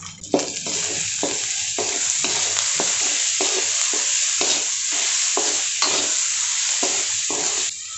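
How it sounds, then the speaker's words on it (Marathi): Chopped onion sautés with salt in a pan, a steady bright sizzle broken by rhythmic scraping strokes of a spoon stirring, close and continuous without talk. "कांदा परतत असताना मीठ टाकून घेत आहे, कारण त्याच्यामुळे मग कांदा लवकर परतला जातो।"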